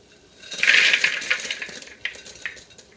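A rattling, clattering rush of tiny pretzels poured into a bowl for a white Christmas snack mix, loudest at first, then trailing off into a few scattered clinks.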